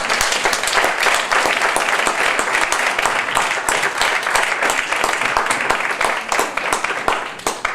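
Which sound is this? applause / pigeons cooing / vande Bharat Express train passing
applause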